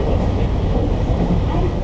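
A Nankai Airport Line train riding from Kansai Airport toward Osaka gives a continuous loud low rumble and rolling roar, heard from inside the carriage and steady for the whole stretch.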